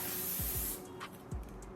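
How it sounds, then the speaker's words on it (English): A setting spray pump bottle gives a short loud hiss of mist lasting under a second, followed by a few faint clicks of the pump. "So make sure when you use it, spray far enough away from your face"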